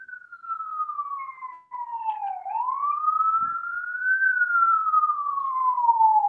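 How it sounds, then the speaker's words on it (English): A police siren wails steadily outside, its pitch falling, dipping and rising again as the car passes, loud and continuous with no talking over it. "I'm just waiting for the siren to pass."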